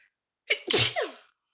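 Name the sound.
sneeze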